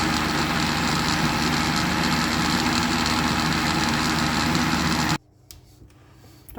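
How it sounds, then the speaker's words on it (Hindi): A blender whirs yogurt into lassi with a loud, steady motor drone close by. The motor cuts off abruptly near the end, leaving quiet behind. "इन सब चीज़ों को अच्छे से हम ब्लेंड कर देंगे"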